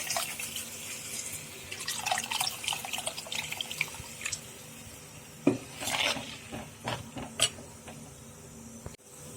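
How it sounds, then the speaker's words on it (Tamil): Tamarind water poured into a sardine fish curry (mathi meen kuzhambu) makes close splashing and trickling, with intermittent liquid bursts and a light clink of utensils, and no talk. "நம்ம கரைச்சி வச்சிருக்க புளியை அதில் ஊற்றி"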